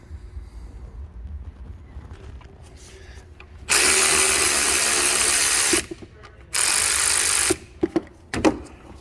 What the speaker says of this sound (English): now I'm gonna use the electric ratchet